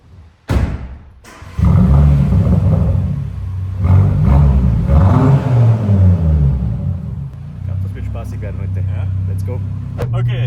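An Audi RS3 engine fires up with a sharp burst, then runs with deep, rumbling revs that rise and fall for several seconds before settling toward idle, heard close by.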